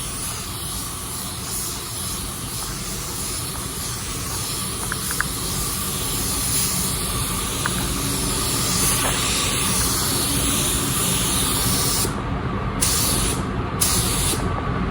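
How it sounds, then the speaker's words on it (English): A spray gun lays a first coat of car paint over sealer, giving a continuous loud hiss that holds steady for the whole stretch, with a few brief breaks near the end. "We'll throw our first coat of color over our sealer."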